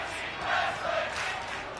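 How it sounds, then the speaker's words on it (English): Crowd noise from a WWE 2K24 video game arena during a 1984 Philadelphia Spectrum tag team wrestling match, a steady broad roar of voices throughout. "Crowd beginning to chant tag team wrestling here."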